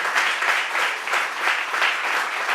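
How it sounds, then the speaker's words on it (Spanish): A church congregation bursts into strong applause at the close of a prayer, the many hands clapping in a dense, slightly pulsing wash that holds steady and loud throughout. "Un fuerte aplauso."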